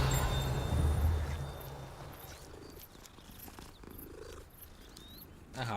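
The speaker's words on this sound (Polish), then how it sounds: "pogłaskać można kota," A cat purrs steadily as it is petted in a Hogwarts-themed magic-school video game. The purr is loud and close for the first second or so, then fades to a soft rumble under faint ambient game sounds.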